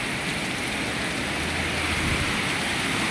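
Heavy rain drums steadily on surfaces outdoors, a dense and loud wash of drops that swells slightly stronger toward the end, with no talk.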